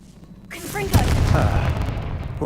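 A Confringo blasting spell explodes in Hogwarts Legacy. A sharp bang is followed by a loud, rolling rumble that lingers for a couple of seconds, with a voice talking faintly underneath.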